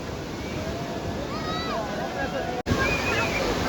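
Sea waves wash steadily onto Nagoa Beach in Diu, India, in a continuous rushing roar, with a few faint whistling tones and a brief dropout near the end.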